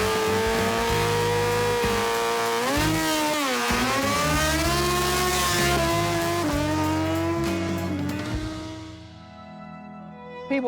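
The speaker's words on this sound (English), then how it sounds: "and even a burnout competition" A car does a burnout at a community June celebration in Arkansas, engine revving hard in rising and falling sweeps over a long continuous tire squeal, loud and close before fading toward the end.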